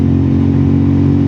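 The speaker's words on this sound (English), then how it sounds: "You can still hear the sound of the engine." A motorcycle engine runs while the bike is being ridden, picked up by a helmet-mounted mic and a DJI Osmo 360 camera. It is a loud, steady, close drone with no breaks.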